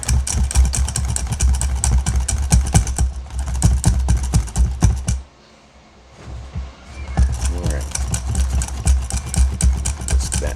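Ingredients whisked together in a bowl make a fast, steady run of close clicking and rattling strokes that stop briefly partway through and then resume at the same brisk pace.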